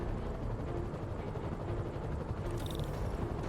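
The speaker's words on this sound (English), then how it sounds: "Bet I can use those helicopters to swing." Helicopters whir in the Spider-Man Remastered video game, a dense, continuous rotor roar that fills the scene at steady loudness, with a brief higher whine near the end and no talking.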